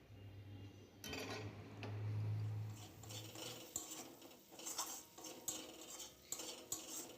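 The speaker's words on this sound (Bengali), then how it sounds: "জল দিয়ে মশলাটাকে ভালো করে কষিয়ে নেব, যাতে পুড়ে না যায়" Spice masala loosened with a little water is stirred in a pan for a cauliflower dish. A low hum gives way to a run of metal spoon scrapes, taps and clinks against the pan.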